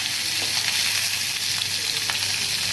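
Cumin, mustard seeds, curry leaves, chilli and onion fry in hot oil in a home kitchen, giving a steady, close, loud sizzle with faint crackles and pops throughout and no talking.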